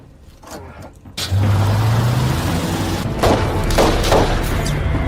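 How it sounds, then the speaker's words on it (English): A police car speeds away under gunfire, its engine surging suddenly after a quiet start, with sharp cracking bursts punctuating the loud roaring drive close by. "The policeman slowly got up and sped up his car to escape."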